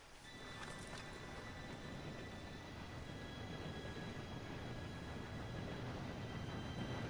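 A train approaching in the video game Red Dead Redemption 2 produces a steady, distant rumble of rolling wheels with faint high metallic squeals, holding constant and slightly building over several seconds.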